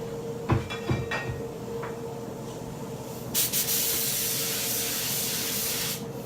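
A spray gun lays a light tack coat of Tamco HC-9500 clear coat. A few short clicks and puffs lead into a loud, steady, close hiss of spraying that runs on with no talk.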